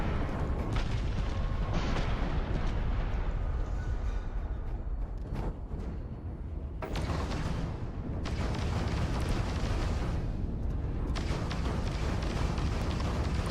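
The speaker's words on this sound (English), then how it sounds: "Auto turrets for the win." Auto turrets firing in Starfield, heavy booming blasts and rumbling bursts rolling continuously over more than thirteen seconds, loud and close with no talk.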